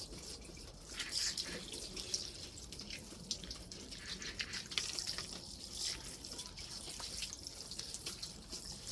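Water pours steadily onto soil in a potted Siberian bellflower or chrysanthemum after repotting, a soft continuous splashing and trickling with small drips, close and fairly quiet.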